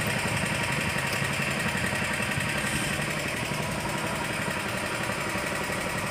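A Honda Vario 125 scooter engine runs steadily at close range with a disconnected injector, its uneven, rattly drone holding constant and loud throughout with no talk.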